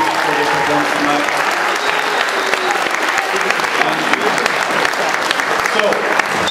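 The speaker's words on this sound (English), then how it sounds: "Can we give all of our kids another round of applause, please, for their performance tonight?" Loud, sustained audience applause in a school hall for a high school choir's evening performance: dense clapping at a constant level with crowd voices and cheering mixed in throughout.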